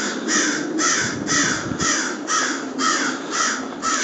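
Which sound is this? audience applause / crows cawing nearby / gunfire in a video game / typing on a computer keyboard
crows cawing nearby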